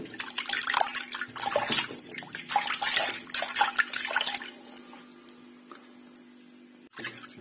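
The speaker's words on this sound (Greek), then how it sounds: "Το νερό είναι της βρύσης." Tap water runs steadily in a kitchen while pizza dough is prepared, a close splashing stream that thins out and fades toward the end, with no talk.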